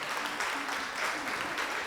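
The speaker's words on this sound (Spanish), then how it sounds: "Vamos a darle un aplauso a todas nuestras invitadas." A church congregation gives a brief, fairly quiet burst of applause for its invited female guests, the clapping a blurred, continuous patter.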